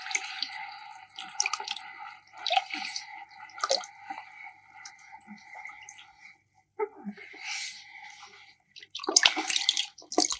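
Water sloshes and splashes intermittently as 10 liters of water are stirred in a container for a tomato bio-enzyme, soft and close, with brief pauses between swirls.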